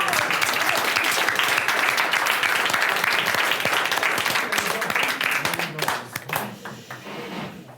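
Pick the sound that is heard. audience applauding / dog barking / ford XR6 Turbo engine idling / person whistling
audience applauding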